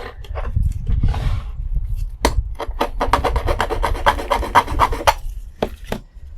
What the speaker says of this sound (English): I'll grab my file.